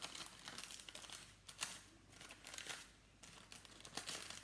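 Greaseproof paper is folded and torn into a cake-decorating piping bag, giving close, steady crinkling broken by several sharp, brief rips, with no voices.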